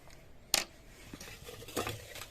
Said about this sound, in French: Une petite louche.